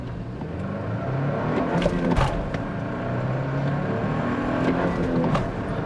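A 2024 Toyota Tacoma TRD manual pickup accelerating hard after a clutch dump, its engine note rising steadily with a brief shift break, loud and close from inside the cab.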